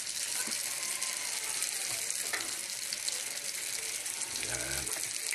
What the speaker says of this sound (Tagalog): naglagay na po tayo ng mantika, nagsalang na, mainit na po. Ayan, maglagay na po tayo ng ating nabalot na mga lumpia